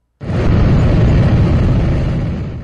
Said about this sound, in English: A jet engine.